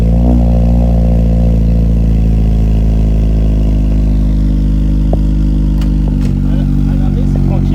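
Peugeot 106 with an engine swap idling at a standstill through its exhaust line, a steady loud low drone with a few clanks near the end and no talk over it.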